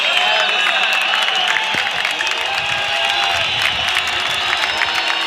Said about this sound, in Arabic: الجمهور بيحيي عم حارس